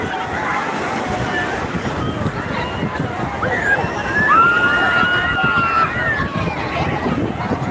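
Ocean waves washing ashore on Digha beach at midday as the tide goes out, a steady broad surf wash with wind noise on the microphone and distant crowd babble, while someone talks over it.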